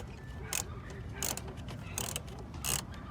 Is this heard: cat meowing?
no